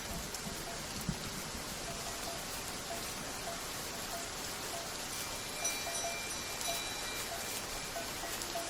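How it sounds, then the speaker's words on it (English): Steady rain falls on open highland grassland at the Zhegu Grassland, a dense even hiss of drops with a faint bell clinking now and then in the distance, and no voices. "A downpour can start without warning."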